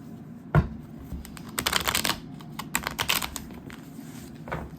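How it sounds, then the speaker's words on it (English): Tarot cards being shuffled by hand, a quick riffle followed by bursts of crisp, irregular card flicks and slaps at close range, with no talk. "So let's shuffle"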